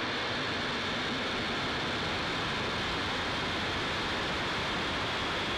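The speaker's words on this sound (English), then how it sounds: "Ignition and liftoff." A SpaceX Falcon 9 rocket's engines roar at liftoff as a dense, steady, broadband rumble that fills the whole clip without letting up, heard from a distance with no voices over it.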